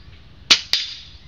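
Two sharp, loud pops from a PCP airgun firing pellets, about a quarter second apart, each followed by a brief ringing decay, with no talk.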